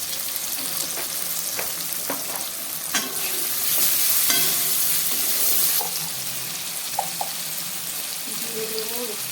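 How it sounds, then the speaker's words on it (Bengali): Vegetables frying in a pan with salt and turmeric, a steady close sizzle with stirring scrapes and a louder burst midway, no voices heard. "দিয়ে কিছুক্ষণ ফ্রাই করে নেব"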